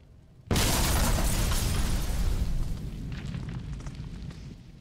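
A sudden loud explosion in the video game Halo 3 ODST bursts out after a quiet moment, followed by a long roaring, crackling rumble that slowly fades over several seconds.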